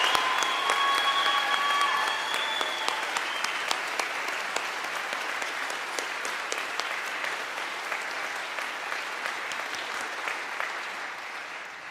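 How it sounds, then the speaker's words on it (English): Law school summer commencement audience applauding the graduating class, a long, steady crowd ovation of dense clapping that tapers slowly, with faint whistling early on. "Let's have another round of applause for this graduating class."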